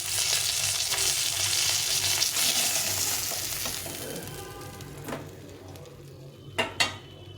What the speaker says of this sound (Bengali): সবগুলো মাছ এইভাবেই ভেজে নিলাম, একদম কম তেলে ভেজে নিলাম